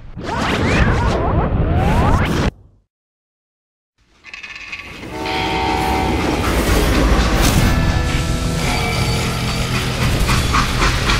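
A train rumbles and clatters loudly in the video game Call of Juarez: Gunslinger, cuts to near silence for a moment, then resumes with steady rolling noise and tonal squeals.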